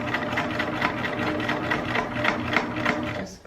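A sewing machine stitches a fabric face mask, its needle running in a steady, rapid mechanical rhythm that stays close and fairly loud for several seconds before stopping abruptly.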